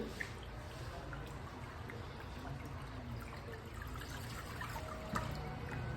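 Water draining through a strainer of elephant-dung pulp at a paper-making workshop, a continuous trickling and dribbling stream with scattered drips, moderately faint and steady throughout, no voices over it.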